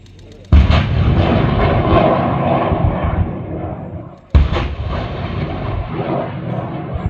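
Loud, sustained roaring blast from 122mm Grad BM-21 rocket artillery firing at an army artillery display, with two abrupt onsets, one early and one about four seconds later, each followed by a long rumbling whoosh.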